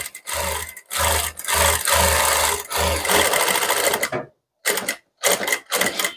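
A sewing machine stitches fabric along a half-inch line in loud, close bursts of rapid clatter, stopping and starting repeatedly, with shorter quick runs near the end.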